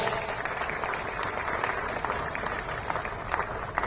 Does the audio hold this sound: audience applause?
yes